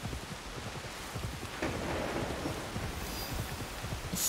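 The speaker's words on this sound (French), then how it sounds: "Il fait pas semblant quand il pleut là-bas." A heavy rainstorm in the video game Assassin's Creed Shadows, with steady dense rainfall and a low rumble of thunder that swells partway through, heard alone at moderate volume.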